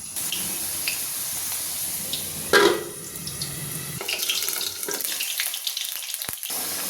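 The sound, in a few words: potatoes frying in mustard oil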